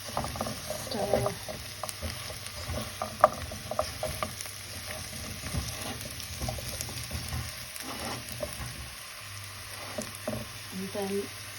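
Sweet potato is being stirred into a sweet potato and chickpea coconut curry soup in a stock pot, giving close bubbling and sizzling with repeated clinks and scrapes of the spoon against the pot, with no talk.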